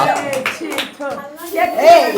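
Hands clap at a home birthday party, a few quick claps mixed in with loud, close voices of adults and children chattering and calling out over them.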